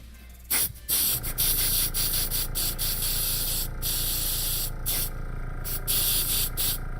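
An airbrush sprays paint onto a 3D-printed D.Va costume piece in short, close, hissing bursts separated by brief pauses.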